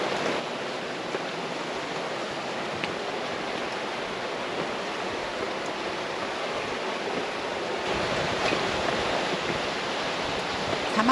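A mountain stream rushes through the Samar canyon in the dry Mustang desert of the Himalaya, an upper branch of the Kali Gandaki river. A continuous, moderately loud wash of flowing water swells slightly toward the end, with no voices.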